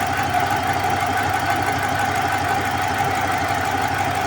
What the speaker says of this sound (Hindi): क्योंकि अभी देखो इंजन पे मिसिंग भी कर रहा है